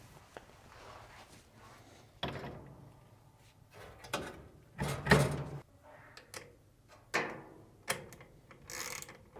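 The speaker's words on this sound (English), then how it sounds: "reinstall the reverse thread nut by turning left or counterclockwise and tightening down while holding the rear of the shaft with an adjustable wrench" Reverse-thread nut on a Samsung dryer blower wheel shaft being tightened with an adjustable wrench: a series of faint, irregular metallic clicks and knocks with quiet pauses between them, no talking.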